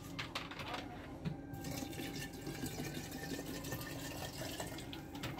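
Water poured into a mango drink mixture, a continuous soft splashing and trickling of liquid at close range, fairly quiet and without voices.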